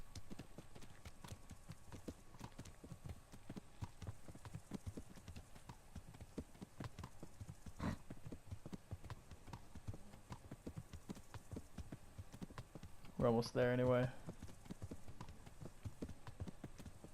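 Steady clip-clopping hooves of the horse Pebbles in Kingdom Come: Deliverance ride on for a long stretch, moderately close, and someone speaks briefly near the end.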